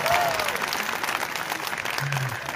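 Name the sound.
audience applause at a comedy show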